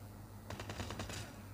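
Rapid automatic gunfire from the mobile shooter Call of Duty Mobile crackles in a quick burst of about eight shots lasting under a second, fairly quiet over a low background hum.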